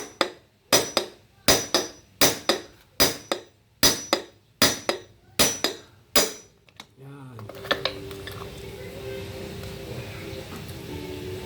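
Nine sharp metallic hammer blows knock out a worn rear-wheel bearing on a Yamaha Nmax scooter, in a steady rhythm, close and loud, then stop, leaving a low mechanical hum and background noise.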